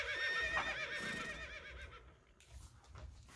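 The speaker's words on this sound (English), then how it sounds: "Philippe whinnied, and several of the horses answered him." Several horses whinny in quick succession, high wavering neighs close by, then fade into soft shuffling and hoof sounds.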